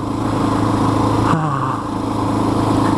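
A Honda XR650R motorcycle engine idles steadily and close by on a warm sunny day, a constant low throb that briefly changes pitch partway through.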